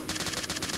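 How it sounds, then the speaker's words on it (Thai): Rapid automatic gunfire in the PUBG battle royale game, a fast steady stream of close, loud shots running through the whole brief moment without pause. "มีคนยิง"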